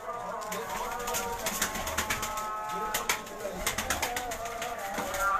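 Jaunsare pigeons coo on a rooftop loft in Karachi, the soft coos mixed with voices and frequent clicks and scuffs nearby.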